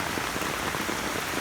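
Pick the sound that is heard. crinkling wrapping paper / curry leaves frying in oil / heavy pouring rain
heavy pouring rain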